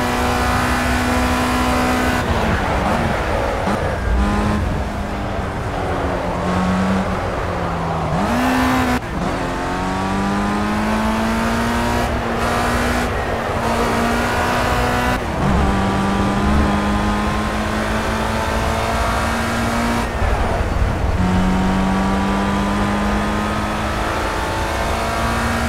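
Race cars in the Project CARS video game, engines droning steadily and loudly, with pitch rising and falling through gear changes and revs across the lap, heard alone without any talk.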